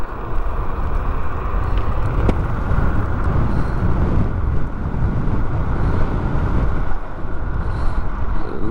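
A dual-motor off-road electric scooter rides flat out at top speed, its drive noise buried under steady, loud wind roar and rushing air across the microphone, with no talking.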